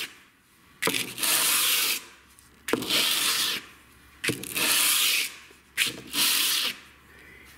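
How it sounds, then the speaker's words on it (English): A knife blade is draw filed at 150 grit in four long, steady rasping strokes, each a bright scraping hiss with brief pauses between, close and fairly loud with no talk. "We've completed draw filing this with 150 grit."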